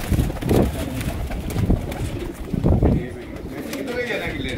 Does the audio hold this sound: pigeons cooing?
yes